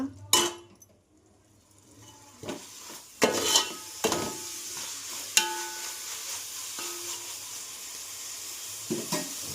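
Mint and other chicken biryani ingredients frying in a pan while a spoon stirs and scrapes: clinking metal strikes and brief bursts of sizzle, close and intermittent, with quiet pauses between.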